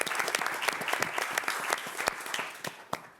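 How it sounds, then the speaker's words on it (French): An audience claps through a film press conference at the Cannes festival, with sharp, dense hand claps ringing out steadily across the hall and a few louder single claps near the end. "Paul Beaurepaire, que vous pouvez applaudir."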